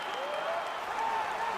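A virtual arena crowd in UFC 4 cheers and applauds in a steady, distant wash of noise before an arm-wrestling fight, and a faint voice rises over it.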